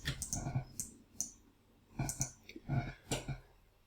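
Mouse clicks in Power Query, a dry, close clicking in small bursts of two or three with short quiet gaps, with no talking.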